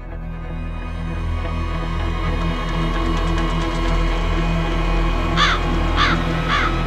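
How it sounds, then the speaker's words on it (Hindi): A crow caws three times in a steady rhythm toward the end inside a home, the calls fairly distinct above continuous loud background music. "लगता है इस कौवे के काय काय से माँ भी परेशान हो गई।"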